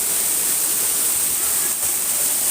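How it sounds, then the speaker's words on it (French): A waterfall at Beauval zoo roars as a steady, dense rush of falling water, loud and close, with an unbroken hiss throughout. "Juste à côté, vous avez une cascade."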